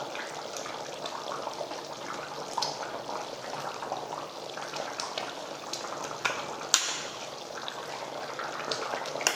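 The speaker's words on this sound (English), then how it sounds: "Once the chicken starts simmering like so" Kashmiri chicken masala simmering in a pot, a steady bubbling, watery gurgle with soft spatters, close and continuous without talk.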